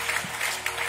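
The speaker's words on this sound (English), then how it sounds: "give the Lord a hand clap of praise" A church congregation claps hands in praise at a Sunday service, a steady wash of applause filling the room for about a second with no voices over it.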